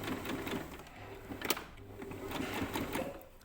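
A sewing machine set to straight stitch runs a plain seam with a 1 cm allowance, reversing briefly at the start; a steady, fairly quiet mechanical whirr with a sharp tick partway through.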